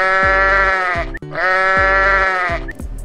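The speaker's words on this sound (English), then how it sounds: "Sheep." A sheep in an animated animal-sounds sequence bleats twice, each a loud, close, wavering call of a bit over a second, separated by a brief pause.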